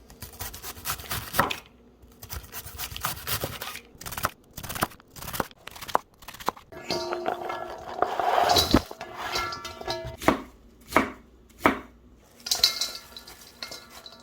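A knife chops cleaned cabbage in a stainless steel bowl while sauerkraut is being prepared, giving a run of uneven crunchy cuts and clatter that come in bursts, close up, with no talking.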